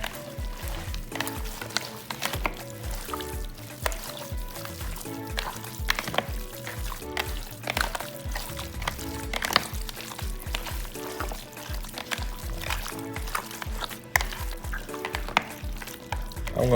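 A Nigerian stew seasoned with curry and Knorr seasoning fries and is mixed in a pot, with a constant sizzle under regular rhythmic stirring and scraping strokes throughout, close up and without talk.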